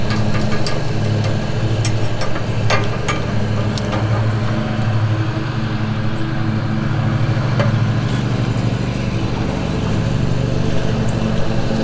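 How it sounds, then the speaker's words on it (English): A neighbor's lawn mower drones steadily nearby, continuous and fairly loud throughout, with a few faint clicks and taps over it. "Sorry for the noise, my neighbor's over there mowing his yard."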